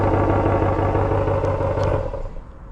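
A 2026 RAM 1500 Limited Longhorn pickup idles through its factory dual exhaust with a deep, steady growl. The sound is close and even, then eases slightly near the end, and no one speaks.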